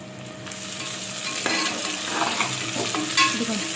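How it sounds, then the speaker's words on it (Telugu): Whole spices frying in a clay pot for chicken curry, a loud, dense and continuous sizzle with a few small pops and scrapes rising over it, close by and with no voices. "అన్నీ వేగుతున్నాయి కదా మనం వేసిన మసాలా దినుసులు అన్నీ"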